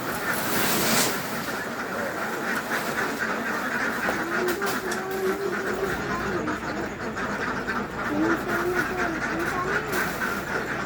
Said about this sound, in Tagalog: Ayan ang oh, mga itik. Dami oh.